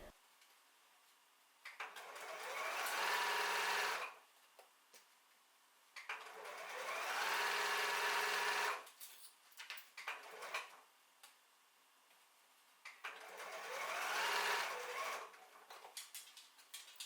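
A sewing machine stitches around a pocket's fabric in three separate bursts of steady whirring, each a couple of seconds long, with quieter pauses and faint handling between runs.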